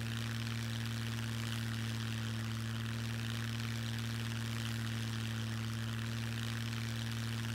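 A propeller plane's engine drones at a steady, unbroken pitch throughout, a continuous mid-level hum from an aircraft in flight in the survival game Scum.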